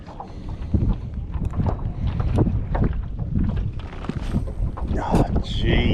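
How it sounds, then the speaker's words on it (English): Wind gusts buffet the microphone while fishing from a Hobie Lynx kayak, a steady rough rumble with splashy bursts as someone talks over it. "Pretty windy, isn't it?"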